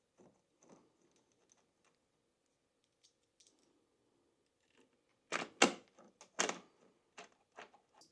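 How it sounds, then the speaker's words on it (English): TP-Link Tapo DL110 smart lock deadbolt being fitted into a door: faint scattered ticks and small metallic touches at first, then a cluster of sharp, louder clacks and knocks of hardware sliding and seating, with a few lighter taps after. "Let's go ahead and install the deadbolt first."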